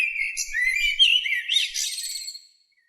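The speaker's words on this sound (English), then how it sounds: "Birds came in the dawn and sat on their stone heads and sang" Birds sing a morning song at dawn, a continuous run of bright chirps, trills and whistled notes that stays close and clear for over two seconds before stopping abruptly, with no voices.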